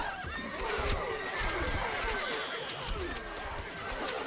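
Horse whinnies and neighs in Stronghold: Crusader, the high neighing calls running over a busy battle soundscape with hoof clatter and low rumbles.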